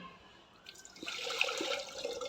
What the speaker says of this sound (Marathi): याच्यात पाणी घालायचं आणि पाणी चांगलं गरम होऊ द्यायचं